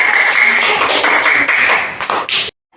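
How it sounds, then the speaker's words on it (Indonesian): A classroom claps for a student group: a short burst of mixed, fairly close claps and taps with a bright tone running underneath, stopping abruptly into silence. "Tepuk tangan untuk kelompok 4 ya."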